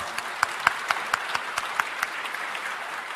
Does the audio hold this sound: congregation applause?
yes